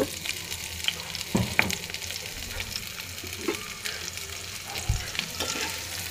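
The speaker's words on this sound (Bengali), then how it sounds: "এবার এই তেলের ভিতরে আমি পেঁয়াজ ঝাল দিয়ে দেব" Onion and green chili fry in oil left after frying fish, a steady close sizzle broken by occasional stirring clicks and scrapes.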